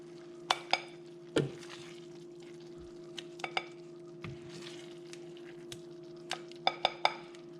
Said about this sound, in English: Just dish it up and let it cool down and give it a try.